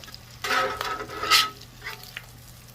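Bacon sizzles and crackles on a VEVOR 22 inch tabletop griddle, soft irregular bursts of frying with a faint stirring scrape, alone and quiet.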